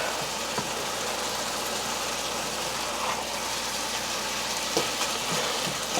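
Ground beef sizzles and crackles steadily as it browns in a slow cooker, a soft continuous frying hiss with faint occasional pops and no talking.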